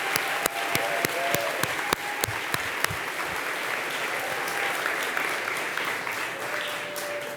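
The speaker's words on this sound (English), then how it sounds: "Let's give them all a round of applause." An audience at the Friends of Nursing Awards 2025 applauds the award nominees, with dense, sustained clapping filling the hall and a few sharper claps standing out early on.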